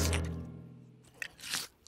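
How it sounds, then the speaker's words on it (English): Cartoon scrunching, munching noise of something eating a juicy rain pear behind a tree, a short crunchy bite followed by a few squishy chewing sounds, fairly quiet and alone. "That sort of scrunching, munching noise."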